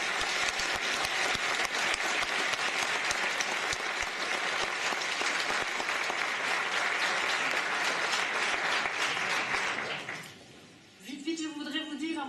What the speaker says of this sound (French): je vous propose à tous et toutes de les applaudir